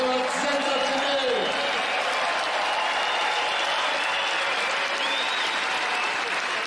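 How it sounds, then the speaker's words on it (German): A stadium crowd at a Christmas carol singing event in the Ostseestadion applauds the choirs, including an athletes' choir, with loud, dense, sustained clapping. A voice is heard briefly at the start. "Großer Applaus nochmal für den Oberchor, den Sportlerchor, der war sensationell."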